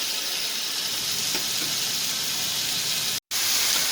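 Cut French fries frying in hot oil, turned a few times and halved, give a steady close sizzle with a constant broadband hiss throughout, briefly cut off near the end.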